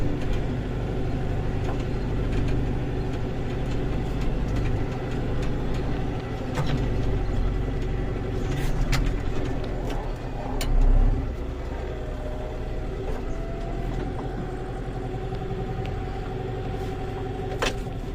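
A Massey Ferguson 5440 tractor works a field, preparing ground for sugar beet. Its diesel engine gives a loud, continuous drone close to the listener, with no speech.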